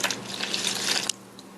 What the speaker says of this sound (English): Now I'm going to add about 1/4 cup water.